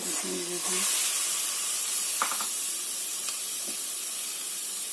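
Raw chicken pieces dropped into a hot pan give a steady, loud sizzling hiss that carries on throughout, with a few brief clinks and stirring sounds and a voice briefly at the start.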